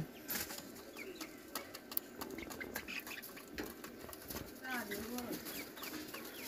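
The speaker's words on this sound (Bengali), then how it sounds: "এখানে দেখতে পাচ্ছেন সিরাজি কবুতর খাবার খাইতেছে" Sirazi pigeons feeding inside a netted enclosure on a small poultry farm, with soft cooing and scattered light pecks and rustles at moderate distance over steady low background noise.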